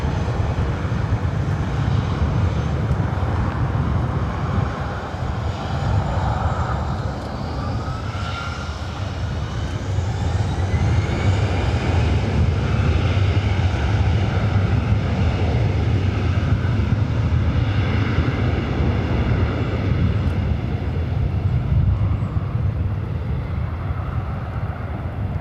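A Delta airliner rolling for takeoff on runway 24 right at LAX, a loud sustained engine roar that builds and holds steady for the whole stretch, with a rising whine layered above the deep rumble.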